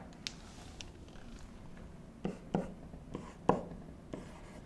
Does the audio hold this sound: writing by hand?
yes